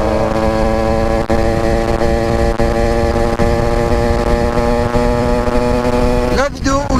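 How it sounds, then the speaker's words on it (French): Motorcycle engine running at a steady drone, loud and close, with a constant buzzing tone that stays unbroken for several seconds before a brief disturbance near the end. "j'adore cette moto"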